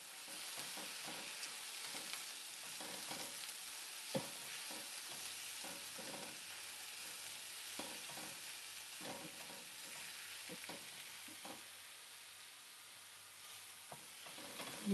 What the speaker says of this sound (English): Lemon salt, just a bit. Let that saute.